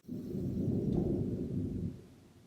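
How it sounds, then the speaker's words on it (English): A long, deep rumble of thunder rolls for about two seconds at fairly close range and then fades, with no voices over it. "Oh, it's gonna thunder. It's definitely going to pour."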